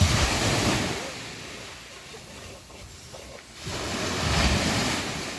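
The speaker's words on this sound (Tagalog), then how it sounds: "Ah, strong waves." Strong ocean waves roll and crash on the shore, a loud, broad wash that swells, eases off in the middle, then surges again, with wind buffeting the microphone.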